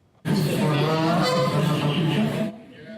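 Canada geese, a family escorted out of a Chatham office, honk loudly and continuously, a dense overlapping chorus of nasal calls close by that cuts off sharply near the end.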